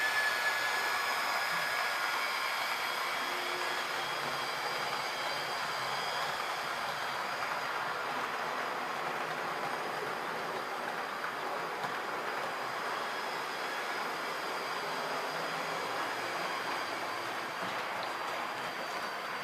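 A Rivarossi Mallet 1354 analog model locomotive pulls Roco wagons along a layout, giving a faint, steady whirring motor hum with a light high whine that runs evenly throughout, with no voices.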